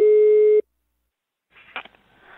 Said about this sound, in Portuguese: Chama, vou ver se pega a mamãe, a Denise.